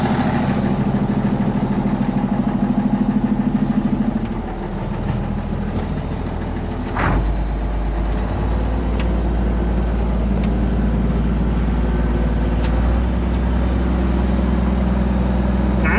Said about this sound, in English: Hydraulic pump. Little noisy sounding, so it might be low.